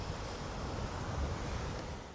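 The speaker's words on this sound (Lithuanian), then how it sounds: "Vėjas nuo jūros." Sea wind and surf on a beach between Roche and Mazagón in Spain make a steady, broad roar with gusts buffeting the microphone, and no voices.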